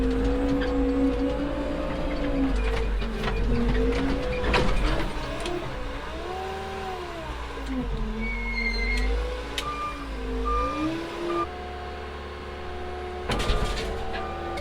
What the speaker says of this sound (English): She's a good little machine, this Manitou.